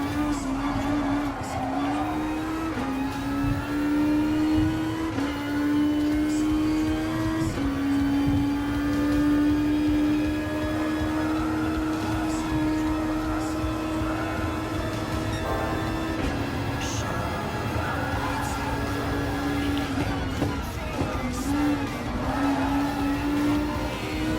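A Toyota FT-1 race car in Gran Turismo Sport holds a steady, loud engine drone, its pitch climbing and dipping through gear changes, with tire noise and other cars audible around it and no talking.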